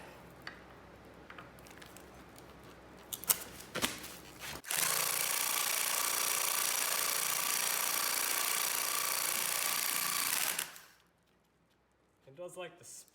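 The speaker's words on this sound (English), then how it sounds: "I think I can give my impact wrench another try." An impact wrench works on a strut from a 2002 Acura TL-S during a strut rebuild: one loud, close, continuous whirring and hammering burst lasting about six seconds, after quiet clicks and handling, then a few faint knocks.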